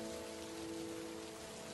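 Heavy rain falls in a steady, dense hiss with no breaks, loud and constant, and a faint tonal hum sits underneath.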